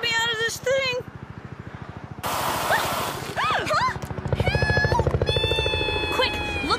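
Rapid helicopter rotor chop thumps steadily throughout in the cartoon Totally Spies, with cartoonish voices and sound effects layered over it.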